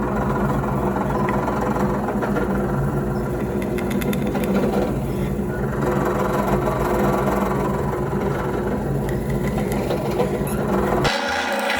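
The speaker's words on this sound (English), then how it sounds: "I'll use a drill press whenever I can." A drill press bores into wood with a steady, dense whirring drone that runs unbroken for about eleven seconds before cutting out, loud and close with no voices.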